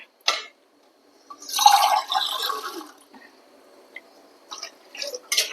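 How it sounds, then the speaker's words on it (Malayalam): Water pours into a cooking pot of tapioca vegetable biryani for a couple of seconds, a splashy gush that fades, followed by a few small clinks and drips. "അതിലേക്ക് കുറച്ച് വെള്ളം ഒഴിക്കാൻ വേണം"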